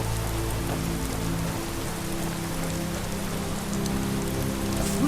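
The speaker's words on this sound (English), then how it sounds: "And this rain is slowing us down." Steady rain falls in Skyrim, a dense, continuous hiss of drops on surfaces with a low rumbling bed, holding even and fairly loud throughout with no voices.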